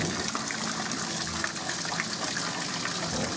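A garden-centre waterfall pours beneath a big gorilla statue into a pool, making a steady, close, rushing splash that continues throughout with no talking.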